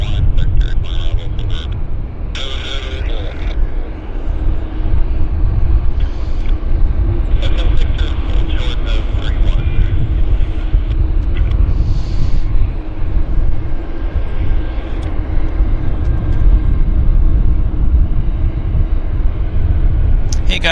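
Airbus A340 airliner at Vancouver airport bound for San Diego, a loud broad low rumble of jet engines sustained throughout, with intermittent radio chatter and crackling bursts layered over it.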